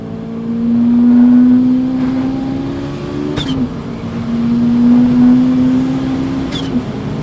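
A turbocharged Volkswagen Golf Rallye engine pulls hard with a steady rising drone, a sharp gear shift midway, then climbs again; loud and close, as from inside the cabin.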